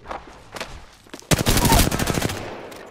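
Burst of video game gunfire in a shootout against clown enemies, a dense rapid volley erupting midway after scattered earlier shots, loud and close.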